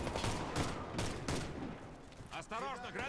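Gunfire in the shooter game Warface crackles as rapid overlapping bursts, loud and dense, followed by a short whistling sweep near the end, with no talk over it.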